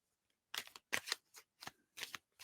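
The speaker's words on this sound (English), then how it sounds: "I've started shuffling my cards" A deck of tarot cards being shuffled up close: five or six quick, crisp riffling bursts separated by short pauses, quiet and with no voices.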